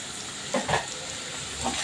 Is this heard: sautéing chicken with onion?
yes